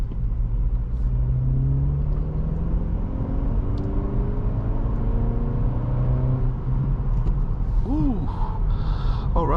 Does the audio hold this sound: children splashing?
no